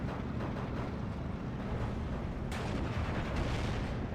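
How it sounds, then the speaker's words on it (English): Mortar fire in the Steel Division 2 war game, a dense rumbling barrage of distant booms and blasts rolling on continuously, with a sharper crack partway through. "Just laying down mortar fire."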